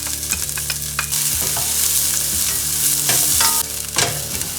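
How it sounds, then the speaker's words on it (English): Onions frying in oil for tacos gobernador, a loud continuous crackling sizzle with scraping and stirring knocks from a spatula in the pan, close up and with no voices. "We're gonna add a little bit of oil, and we're gonna start with our onions."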